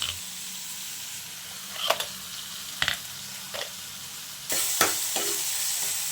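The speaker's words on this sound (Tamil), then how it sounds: "தக்காளி எல்லாம் நல்லா வதங்கிடுச்சு" Diced tomatoes sauté in a hot pan for sambar, giving a steady close sizzle and hiss broken by a few sharp scrapes and clatters of a spoon stirring. A brief louder burst of sizzling comes near the end, with no voices.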